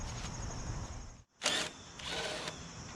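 A power tool backs out a 3/8 bolt on a Craftsman push lawn mower, a brief whirring run that cuts off, then resumes with a sharp burst of higher-pitched spinning, close and moderately loud.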